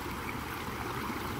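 Water running steadily down a small stream in a garden pond after heavy rain, a continuous broad rushing gurgle, close and even throughout with no voices.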